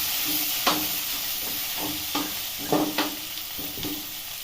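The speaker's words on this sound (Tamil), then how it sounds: "இது நல்லா சேர்த்து கிளறி விட்டுக்கலாம்" Finely chopped tomatoes with ginger-garlic paste and onions sautéed in a pan for chicken gravy, a steady hiss of sizzling oil broken by several close scraping strokes of a stirring spoon, no voices.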